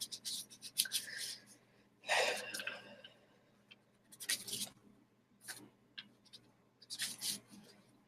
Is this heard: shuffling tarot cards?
yes